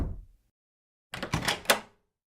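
A few heavy, loud knocks land on a door in a quick cluster, following a single dull thud and a short pause, with no voices.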